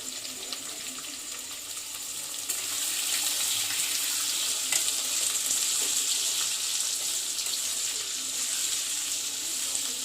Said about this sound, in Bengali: পেঁয়াজ রসুনটা ভাজা ভাজা হয়ে গেছে